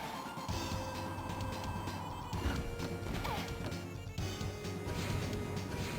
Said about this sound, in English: oh, cave-in